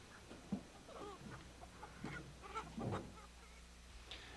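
Chickens loaded into a 1981 Ford van cluck and squawk faintly in scattered bursts, with soft rustling between the calls.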